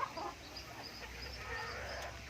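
A sweet-voiced rooster crows in the evening, a drawn-out call at a moderate distance over a soft outdoor background, with no voices present.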